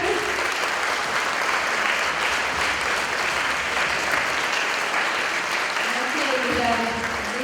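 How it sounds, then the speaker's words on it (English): Steady, dense audience applause for second grade teachers at an elementary school production of The Wizard of Oz, filling the hall evenly throughout with a few voices faintly mixed in near the end. "So let's give a round of applause for our second grade teachers."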